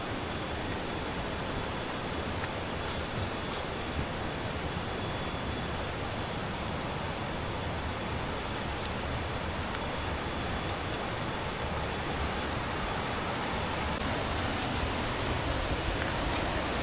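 A waterfall at Nam Pian Yolapa roars as a dense, unbroken rush of water, loud and constant throughout with no talk over it.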